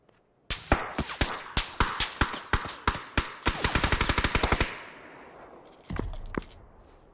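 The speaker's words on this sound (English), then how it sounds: "What gun is he shooting? an M4." An M4 rifle fires in the battle-royale video game PUBG. Rapid, sharp game gunshots come in a quick series that speeds into a tight automatic burst, then a second burst follows a moment later, loud and alone.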